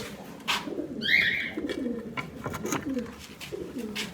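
Pigeons coo in low, throaty bursts over a steady murmur of background noise, with a brief higher chirp near the start.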